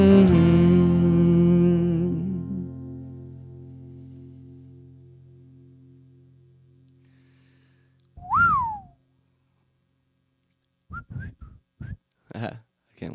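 A person whistles an imitation of a bird call: a long sustained tone that fades out, then a sliding chirp and several short clipped whistles, close and clear with no talking.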